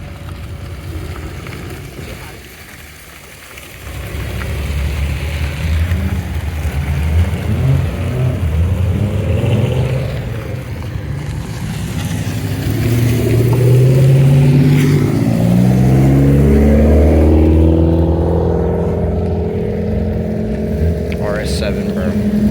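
An Audi at an airport car meet revs its engine, rising in a long climbing roar that grows loud and close. Crowd noise and voices mix in underneath.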